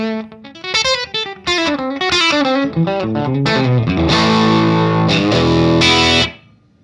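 A distorted electric guitar plays a quick run of notes and then crunchy sustained chords through a driven Morgan AC20 tube amp, loud and close, then stops.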